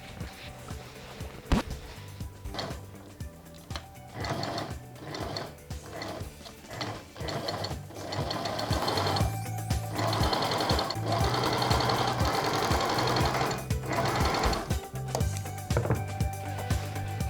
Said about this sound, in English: So I will stitch from edge to edge.